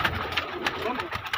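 Pigeons cooing in a low rhythmic murmur at a pigeon keeper's place, with a voice talking over them.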